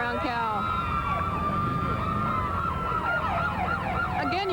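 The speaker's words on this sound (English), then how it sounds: "you can hear all the police sirens and the escort" Police sirens of a motorcade escort at a 1991 street parade in Baltimore, several wailing and yelping tones overlapping loudly and steadily, with crowd noise beneath.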